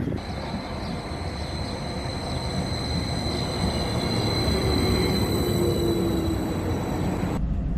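A train on the Breckland line rumbles steadily near a station, a broad continuous roar with faint high whining tones that swells slightly mid-way before cutting off abruptly near the end.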